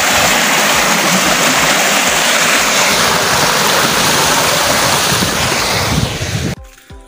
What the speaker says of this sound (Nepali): ड्यामदेखि तल्लोको झरना